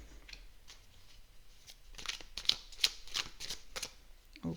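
Tarot cards being shuffled and drawn: quiet handling, then a run of several crisp, close riffling flicks and a final card snap, with soft background sound.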